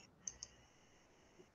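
Two faint, quick clicks from a computer mouse sound close together, then a softer one follows, over a quiet steady room hum with no talking.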